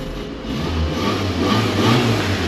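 A carburetor car engine runs at close range, a steady mid-low rumble that swells slightly as it revs, heard alone without voices.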